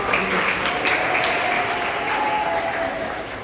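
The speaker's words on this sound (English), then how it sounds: "So big round of applause to Abhinav and group." An audience at a school Teachers' Day event gives a big round of applause for a performing group, sustained and full, holding steady before tapering slightly toward the end, with faint voices underneath.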